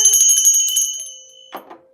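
A single bright timer bell rings with a clear sustained tone that slowly fades, followed by a brief soft knock near the end; close and alone, with no talk.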